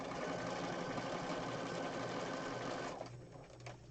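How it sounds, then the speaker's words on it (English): A sewing machine stitches steadily down the side of fabric for a junk journal, a continuous close mechanical whir that slows and drops off near the end. "I'm going to rotate it and then I'm going to sew down the side"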